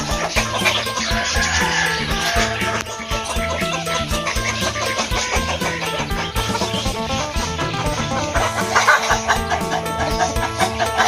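Chickens cluck around a small duck and chicken farm, overlapping calls in a busy, continuous bed of poultry noise, with no talking.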